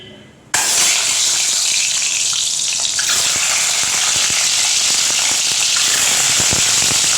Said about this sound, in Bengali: আর সামান্য একটু লঙ্কার গুঁড়ো দিয়ে ডিমগুলোকে আমি হালকা করে ভেজে নেব